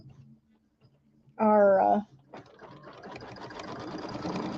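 An embroidery sewing machine stitches batting down to stabilizer, with one loud, steady half-second burst of whirring, then a quieter, continuous mechanical chatter that builds slightly toward the end.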